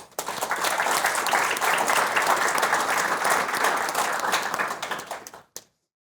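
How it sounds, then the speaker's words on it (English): A large audience at an awards dinner applauds loudly and steadily for about five seconds, then the clapping cuts off abruptly into silence. "So big round of applause for Annie."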